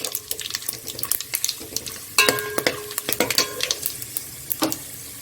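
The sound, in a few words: bay leaves, shahjeera, black pepper and cloves frying in oil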